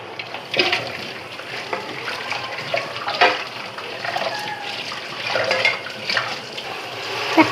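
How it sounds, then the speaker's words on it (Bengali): Taro leaves being washed under running water, a continuous splashing trickle with irregular louder sloshes as the leaves are handled, close by. "তো এখন এগুলা ধুয়ে এই ঝুড়িটার মধ্যে রাখবো"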